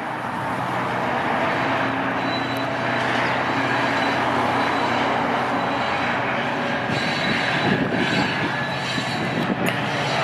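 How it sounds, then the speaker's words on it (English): A northbound train passing in Toronto roars steadily nearby, its wheels rumbling on the rails with occasional metallic squeals rising toward the end. "I knew there'd be a northbound train coming this way"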